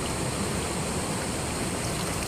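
Hot spring water gushing out of a crack in the rock at a spring in Abra, a steady, dense rushing flow heard up close and unchanging throughout.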